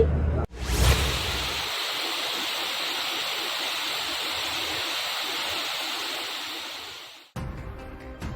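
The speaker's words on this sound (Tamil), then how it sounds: "சின்ன சுருளி அருவியில் காட்டாறு வெள்ளம் கரை புரண்டு ஓடுகிறது" Flood water surges through Chinna Suruli waterfall in the rain-soaked Megamalai forest of Theni district, a loud, steady, close roar of rushing water that cuts in sharply and stops abruptly.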